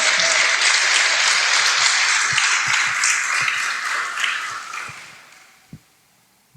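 A church congregation applauds, a full and lively clapping that gradually thins out and dies away, leaving a few last isolated claps near the end.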